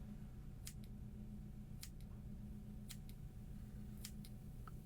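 Scissors snip fly-tying material on a Gaspe Bug fly body, shaping it into a cigar form; four crisp cuts come at a steady pace, close and fairly quiet, over a steady low hum.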